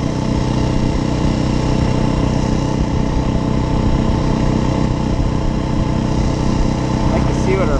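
A 2021 Beta 430 RR-S motorcycle engine drones steadily while the bike cruises along, a continuous close, loud mid-pitched hum with wind rush and no break for nearly eight seconds.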